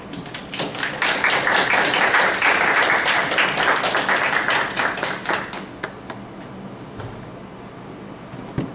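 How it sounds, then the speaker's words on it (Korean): An audience at a Korean university colloquium on faith and learning claps to welcome a professor, dense applause that swells, then thins into scattered claps and fades out over several seconds. "박 교수님 나오실 때 큰 박수로 환영해 주시기 바랍니다"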